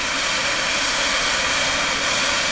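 A steady, loud, hissing roar of a gas torch flame, constant and unbroken for the whole stretch.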